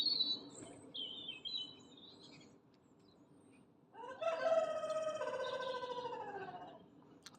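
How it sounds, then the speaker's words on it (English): Outdoor birdsong in a winter garden with high chirps and trills early on, then a loud cockerel crow dominating the second half, against a quiet background. "birds sound beautiful, don't they?"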